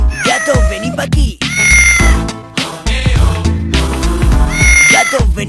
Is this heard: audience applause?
no